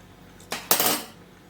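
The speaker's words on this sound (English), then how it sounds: "I'm going to use the wooden spoon to put a little bit more on my spoon" A wooden spoon scraping food in a dish, two quick close scrapes lasting under a second amid a quiet kitchen.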